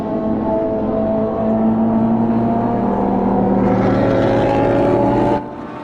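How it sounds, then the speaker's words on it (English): A GT race car and an LMP3 prototype drive past on the Autodrom Most circuit, their engines a loud, steady whining drone that builds slightly before cutting off abruptly near the end, with no talk. "the two cars go towards turn number 1. This is just the amount of power that the GT car has over the LMP3"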